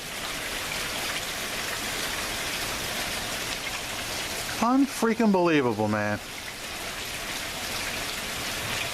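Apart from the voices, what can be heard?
heavy rain falling outdoors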